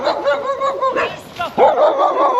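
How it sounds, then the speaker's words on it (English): Two dogs beside a salmon river bark and yip in quick repeated bursts close by, with a few whimpering notes between the barks. "Looks like a couple of dogs have come to say hello."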